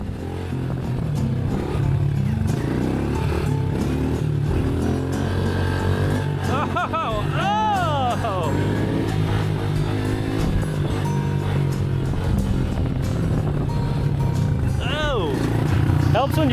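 A pit bike and a Kawasaki KDX200 dirt bike ridden on a trail in Ohio: continuous loud engine drone with rising and falling revs, close to the microphone, with a dense wind and rattle wash throughout.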